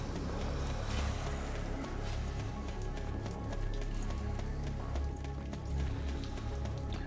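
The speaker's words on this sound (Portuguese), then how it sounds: "O som da água aqui no ouvido caindo aqui desses lugares é muito." Falling water splashing down in Devil May Cry 5, a loud, steady patter and rush like heavy rain hitting surfaces, continuous and close throughout.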